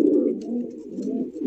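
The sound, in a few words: Indian Bombay pigeon cooing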